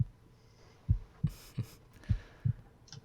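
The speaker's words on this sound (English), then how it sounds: "Hear those heartbeats?" Heartbeats heard close up and soft, a muffled low thumping in a steady rhythm of about five beats, with faint rustling between them.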